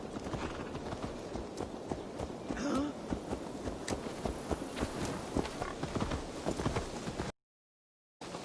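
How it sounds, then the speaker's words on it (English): Horse hooves clip-clopping in a steady walking rhythm, fairly close and moderately loud, in the video game Assassin's Creed Valhalla, with faint background ambience and a short dropout near the end. "Let's return the horse"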